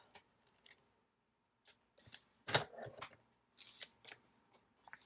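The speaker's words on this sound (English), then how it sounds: "And then just take a scissor" Scissors cutting paper for a Happy Planner page: a few quiet, close snips and crinkles in short irregular bursts with gaps of near silence.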